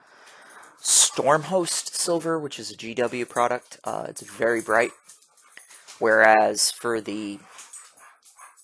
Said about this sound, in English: sorry about the dogs, they have decided to wrestle right behind me